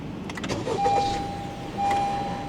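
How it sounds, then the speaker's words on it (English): A car engine starting and settling into a steady idle, with a thin sustained whine running through the low rumble, heard close with no talking. "now it's time to turn on the engine."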